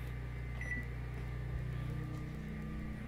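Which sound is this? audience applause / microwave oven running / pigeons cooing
microwave oven running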